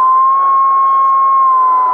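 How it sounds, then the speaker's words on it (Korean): Continuous pure beep tone from a DVS timecode vinyl record played with its pitch shifted, loud and steady for the whole span with no voices. "피치를 변경하게 되면 이런 식으로 음정이 달라지죠."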